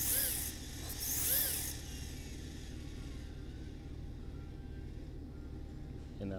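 Gear differential wheels of an RC drift car spinning up, a whirring mechanical buzz with ratcheting rises near the start, then settling into a quieter steady hum.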